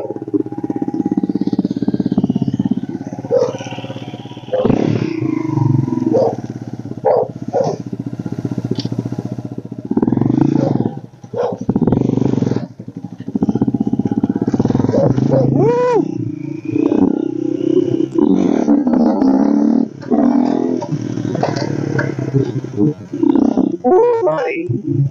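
A dirt bike with a freshly cleaned carburetor runs nearby, its engine rumbling and revving unevenly with throttle blips and surges while a person talks over it.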